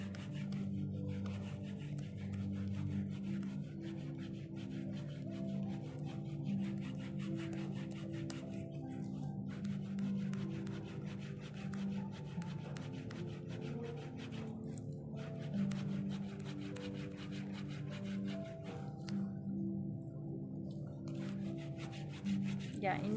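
Hard skin is scrubbed off the soles of the feet during a pedicure, giving a continuous close rasping, rubbing scrape with steady back-and-forth strokes.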